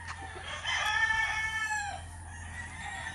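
Gamefowl battle stags crowing nearby, a long drawn-out crow over steady low background hum with some clucking.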